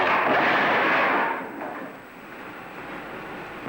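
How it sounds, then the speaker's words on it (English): A charge of trinitrophenol (lyddite) detonates in a 1930s laboratory demonstration: a loud, broad blast that rolls and decays over about a second and a half into a fading rumble, with no voices. "the portion of the trinitrophenol lyddite that you have prepared, I shall now explode."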